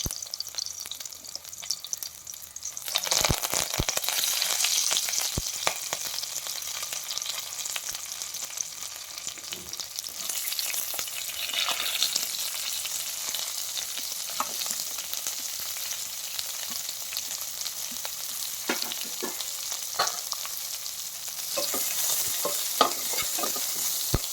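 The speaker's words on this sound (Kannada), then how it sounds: "ಆದಮೇಲೆ ಸಾಸಿವೆ ಹಸಿಮೆಣಸಿನ್ಕಾಯಿ ಹಾಕಬೇಕು ಸ್ವಲ್ಪ ಫ್ರೈ ಆದಮೇಲೆ" Mustard seeds and green chillies fry in a pan, giving a steady bright sizzle with crackling pops and occasional stirring scrapes, close and continuous throughout with no talking.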